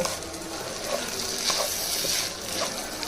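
Shahi jeera and whole black peppercorns are stirred in a hot pan with salt, making a dense, close sizzle with scraping and rustling from the stirring.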